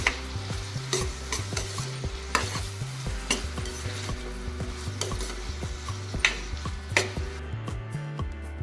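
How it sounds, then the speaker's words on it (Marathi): Finely chopped onion frying for pav bhaji, a quiet steady sizzle under repeated rhythmic spatula stirs and scrapes against the pan. "आता कांदा चांगला शिजवून घ्यायचा आपल्याला"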